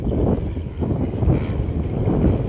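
Steady, loud wind buffeting the microphone at an outdoor airshow flying display at Temora Aviation Museum, a continuous low rumbling roar with slight surges and no speech.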